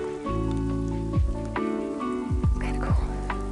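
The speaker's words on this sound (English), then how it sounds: "as you can see, the rain beat us" Rain falls steadily outdoors in New Mexico near a rock house, a constant patter on surfaces, with low droning tones and brief voices underneath.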